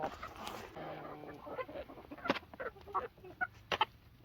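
Polish crested chickens eat black soldier fly larvae treats close by, with soft clucks and pecking taps in an irregular patter and a few sharper calls.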